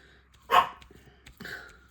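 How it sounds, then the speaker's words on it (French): A small dog gives two sharp barks indoors, a loud yap followed by a softer second one after a short pause. "vous avez même l'aboiement en prime de cette horrible bestiole qui me tyrannise"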